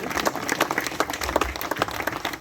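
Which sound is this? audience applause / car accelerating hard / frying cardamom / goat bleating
audience applause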